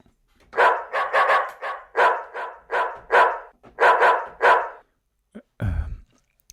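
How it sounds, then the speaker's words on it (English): Dog bark sample played melodically as a synth, a steady sequence of about eleven loud, close bark notes in quick pairs and singles, ending with a couple of short clipped blips and a brief low thump. "We now have a dog bark."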